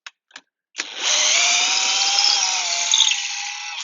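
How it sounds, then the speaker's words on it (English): A power drill drives a threading tap through wood and aluminum deck material, starting with a couple of short clicks and then whirring in a steady, loud, high-pitched whine that wavers slightly near the end. "Then you'll run the tap through the wood and through the aluminum."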